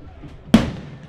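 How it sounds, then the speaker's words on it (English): A cannon fires once after a made field goal at a high school football game, a single sharp, loud boom that decays quickly over crowd and broadcast ambience. "And that cannon will get everyone in this box every single time."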